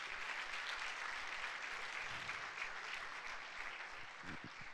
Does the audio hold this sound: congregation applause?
yes